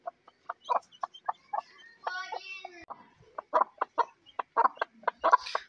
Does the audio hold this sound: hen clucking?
yes